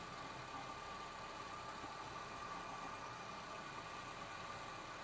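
A car engine idles steadily with a faint whine from a worn rear bearing in the alternator, a continuous low hum and hiss held close and even throughout.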